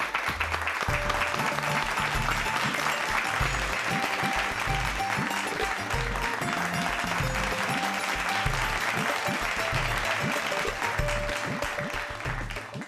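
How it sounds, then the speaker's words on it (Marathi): An audience applauds to honour a student who passed with good marks, a steady sustained round of clapping under continuous background music, with no talk. "सगळ्यांनी टाळ्या वाजवा"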